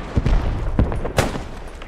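A machine gun in the Post Scriptum video game rattles out a few short, heavy bursts nearby, with booming low-end reports and echoing tails between them.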